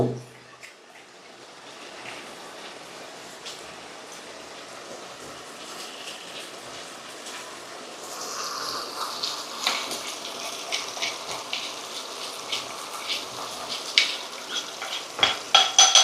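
Chili powder is stirred into a pan of cooking food: a quiet, steady frying hiss that grows busier about halfway through, with soft scraping and occasional sharp clicks of the spoon against the pan.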